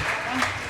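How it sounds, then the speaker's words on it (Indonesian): Audience applause at an Indonesian Eid al-Fitr religious gathering for a guest named Kang Jus, a brief burst of clapping with some background voices. "Tepuk tangan buat Kang Jus"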